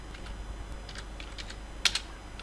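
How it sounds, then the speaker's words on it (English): Computer keyboard typing while entering text for a web page, a scattering of light key clicks with two sharper, louder taps near the end, close and alone over a faint hum. "here I'm going to type my home page"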